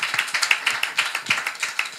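Applause from a small audience at a talk about becoming a surgeon: a couple of seconds of brisk, fairly close clapping with a steady, slightly uneven rhythm of individual claps and no voices.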